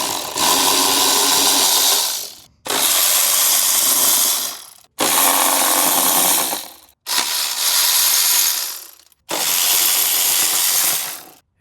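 Five loud bursts of rapid mechanical clicking, each about two seconds long with short gaps between them, as bolts come off a Suzuki Every van with an F6A engine during timing belt work.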